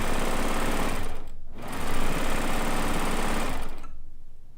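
A Sashiko sewing machine stitches quilt piecing in a loud, dense, close-up run that breaks off briefly, then resumes and fades at the end.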